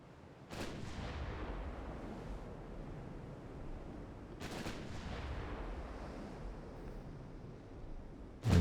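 Naval guns fire in Ultimate Admiral Dreadnoughts, two distant booming salvos several seconds apart with rumbling decay between them, a steady low sea-like background and a louder thump at the very end.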